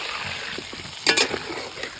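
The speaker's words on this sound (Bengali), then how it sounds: "আলুগুলো একদম ভালো করে ভাজা হয়ে গেছে" Potatoes fry in a pan with a soft, close sizzle, broken by a brief louder stir or clink of the utensil near the middle.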